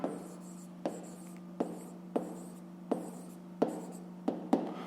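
Pen or pencil writing by hand on paper while working a 5th-grade fractions exercise, with a steady scratching stroke broken by sharp taps at the start of each word or line, repeating about every half second to second, close and clear.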